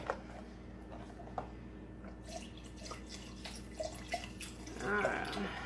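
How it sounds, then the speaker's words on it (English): Broth is poured into a pan of broccoli beef meatballs, with soft drips and trickles close by, then a brief fuller splash and sizzle near the end. "I'm going to add just a little bit more broth to it"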